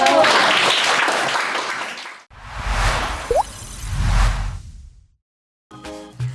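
Classroom applause from middle school students, a burst of clapping that fades out, followed by scattered rustling and handling noises, then a short quiet gap and a brief final sound.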